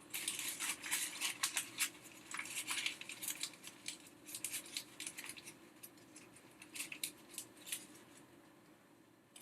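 Paper being scrunched up by hand in a workshop, crisp crackling bursts that come in irregular clusters, fairly close and quiet, with no voices.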